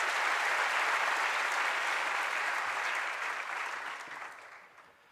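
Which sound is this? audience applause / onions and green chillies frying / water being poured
audience applause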